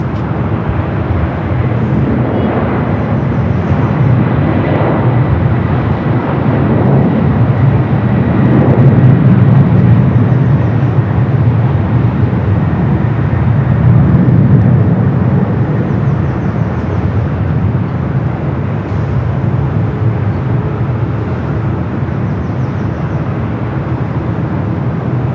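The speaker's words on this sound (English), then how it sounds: "Heading to Anchorage with the 747-400 freighter." A Boeing 747-400 freighter at LAX powers down the runway on takeoff, a deep sustained jet roar that swells toward the middle and stays loud and steady, with no voices over it.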